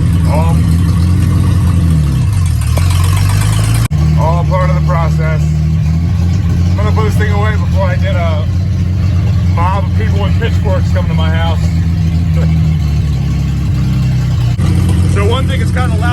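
A 1948 Plymouth P15 Special Deluxe engine runs loud and close with a steady low idle rumble throughout, while a person talks over it.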